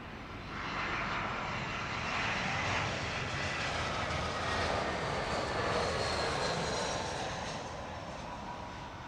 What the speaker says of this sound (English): This is the Stockholm arrival for British Airways A319.